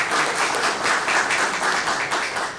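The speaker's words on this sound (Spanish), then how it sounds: "Un fuerte aplauso," An audience applauds steadily for a professor at a presentation, a dense, even wash of clapping holding at moderate loudness throughout.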